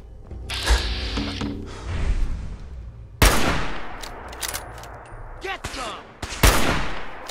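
Gunfire in a Fallout 4 fight: loud sharp rifle reports ring out several times, separated by mechanical clicks and creaks, close and dominant.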